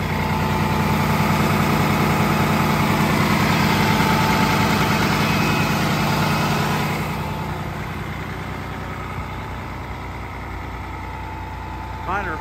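A 2007 Freightliner M2 truck's Mercedes diesel engine idles close by with a steady, low, vibrating rumble that eases to a slightly quieter level partway through.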